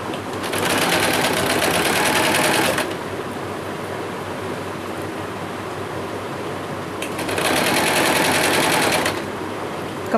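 Domestic sewing machine stitching double-layer net fabric with gota lace, running in two loud bursts of several seconds each with a quieter pause between, no voices.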